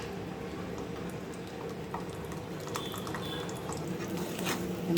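Garlic with cinnamon, cardamom and bay leaves frying in oil for a mango pickle gives a steady, close bubbling sizzle throughout, with a few faint clinks near the end.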